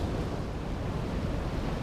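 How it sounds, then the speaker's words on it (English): Ocean surf washing into a rock pool on a rocky shore, a steady broadband rush of water with wind noise on the microphone, fairly loud and continuous with no voices. "And that's the wave I've been waiting for."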